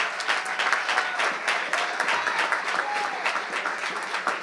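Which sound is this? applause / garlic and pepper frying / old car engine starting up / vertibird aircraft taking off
applause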